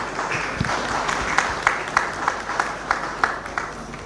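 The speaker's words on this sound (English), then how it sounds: "I think that deserves a big round of applause from all of us" Audience at a maritime industry roundtable giving a round of applause, a sustained wash of many hands clapping at moderate distance with individual claps popping out near the end.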